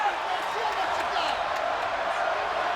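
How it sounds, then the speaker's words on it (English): A wrestling arena crowd on its feet in a sold-out house buzzes with anticipation, a constant, dense roar of massed voices heard from a distance, with a commentator's voice partly over it. "The fans sense it. You can hear the anticipation."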